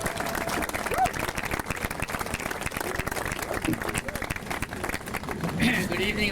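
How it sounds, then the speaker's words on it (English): An audience at an evening event gives warm applause to an honoree, steady clapping throughout at a moderate distance with some voices underneath. "now let's give a real nice warm applause to our honoree, to Lou Leonard."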